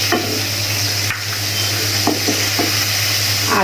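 Onion with coriander powder and salt cooks down into a spice paste for hilsa paturi, a loud, steady hiss of frying under repeated scraping strokes of a spatula across the pan.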